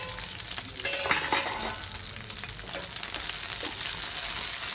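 Green chillies sizzle steadily in a hot pan for tomato chutney, with occasional stirring scrapes and clinks over a constant close frying hiss.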